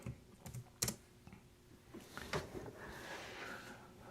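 Faint typing on a computer keyboard during late-night writing of a short film script, with a few sparse key taps early and then a soft continuous clatter in a quiet room.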